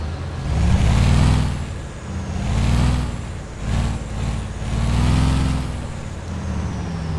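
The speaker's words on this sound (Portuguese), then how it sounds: "Sente só o barulho deste caminhão." A MAZ 6422 truck engine in the Euro Truck Simulator 2 game runs steadily and loudly on its own, with deep low rumble that swells and eases in slow waves, plus a hiss like an air brake.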